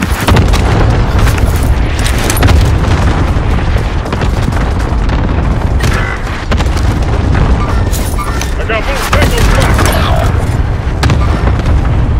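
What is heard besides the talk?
precision airstrike explosions in the video game Call of Duty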